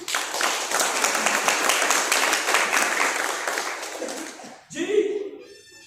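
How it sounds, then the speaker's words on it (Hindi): Sustained audience clapping at a Hindi-language speech, dense and close for about four seconds, then fading out as a voice resumes. "तो मुसलमान भाइयों के लिए भी ताली बजाइए।"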